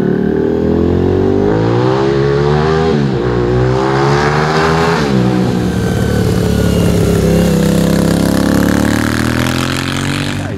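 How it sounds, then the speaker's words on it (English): A 1997 Suzuki TL1000S built as a custom tribute motorcycle runs loud and close, its engine note rising and falling through several revs with a deep, steady rumble throughout. "this is my Barry Sheene tribute motorcycle"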